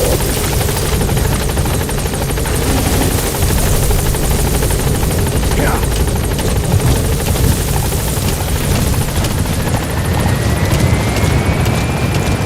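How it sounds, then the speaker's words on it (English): Support helicopter from the video game Metal Gear Solid V: The Phantom Pain, its steady rotor thrum loud and continuous throughout, with a faint rising whine toward the end and no talk. "Support helicopter extraction arrived at Mother Base."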